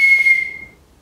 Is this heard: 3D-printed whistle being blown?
yes